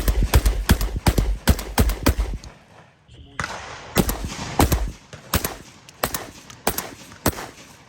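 A Mossberg 940 Pro-Tactical semi-automatic shotgun is fired rapidly at a range, two fast strings of sharp, loud blasts separated by a short pause.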